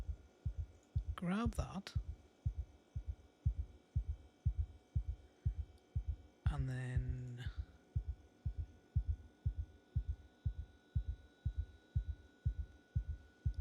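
Steady heartbeat from the paranoia trait in Project Zomboid, a low regular double thump repeating throughout at a calm pace, with brief talk over it in two spots.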